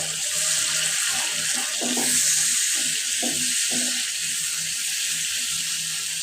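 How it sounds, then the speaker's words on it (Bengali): Spice paste with ginger and garlic sautéing in a pan for a country chicken curry, giving a continuous watery hiss with intermittent stirring clatter, close by and without talk. "এই যে আমি মশলাটা ভালোভাবে কষিয়ে নিচ্ছি"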